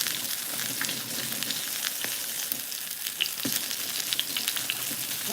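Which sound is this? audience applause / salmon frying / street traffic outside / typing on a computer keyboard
salmon frying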